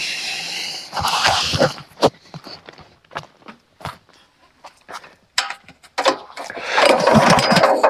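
An old Farmall M tractor engine cranks and sputters, catching in uneven bursts with pauses between, then roars briefly at the end.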